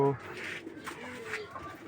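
Soft pigeon coos rise and fall close by, mixed with quiet voices talking in the background.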